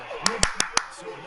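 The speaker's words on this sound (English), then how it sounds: "Short clap." Four short, sharp hand claps in a steady rhythm, close and distinct, heard during a Patriots football game watch with excited fans around.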